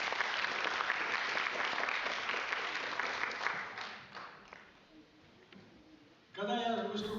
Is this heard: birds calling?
no